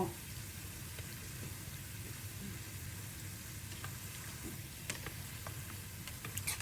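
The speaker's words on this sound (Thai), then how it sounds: "ตั้งน้ำมันแล้วเรียบร้อย ทุกคนมาทอด ทอดแบบใจเย็นมาก" Sesame dough snacks fry in a pot of hot oil with a steady, close sizzle and bubbling that runs throughout, broken by a few faint clicks and stirring knocks near the end.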